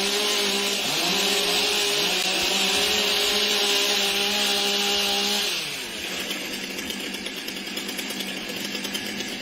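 Chainsaws revving at a STIHL Timbersports North American Trophy competition, a loud sustained high-pitched engine whine that drops in pitch and fades to a rougher idle partway through.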